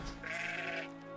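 A single sheep bleats in the medieval farming game Medieval Dynasty, one short wavering bleat close by over a quiet background.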